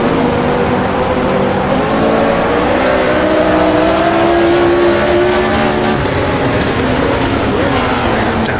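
A 1978 Formula 1 race car engine at the Austrian Grand Prix drops through the gears under braking, its loud, steady in-car drone shifting pitch as it slows for a left-hand corner, with no talk over it.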